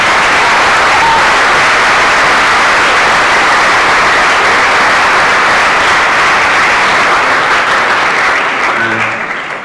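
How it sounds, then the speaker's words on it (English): A school audience applauds continuously at a welcome for a visiting delegation of college students, a loud, dense wash of clapping that lasts throughout and tapers slightly at the very end. "So give them a round of applause."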